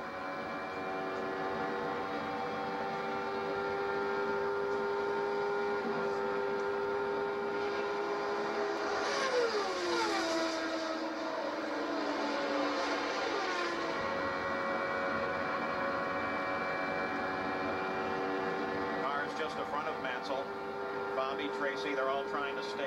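Race car engine on Nigel Mansell's car, steady high-pitched drone heard from a distance with a noticeable downward pitch sweep partway through as the throttle changes, under constant broadcast background noise.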